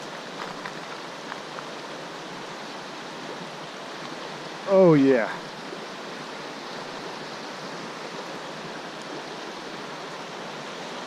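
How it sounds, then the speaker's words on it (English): Steady rushing water from the North River flows around a hiker wading across on a gorge trail, a constant broadband hiss throughout, with a brief spoken exclamation near the middle. "Fording the river."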